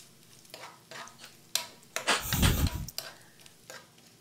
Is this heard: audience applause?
no